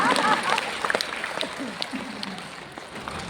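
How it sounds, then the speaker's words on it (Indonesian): An audience in a seminar hall breaks into applause, a brief burst of clapping that fades over a few seconds, with voices talking underneath. "Tepuk tangan dong."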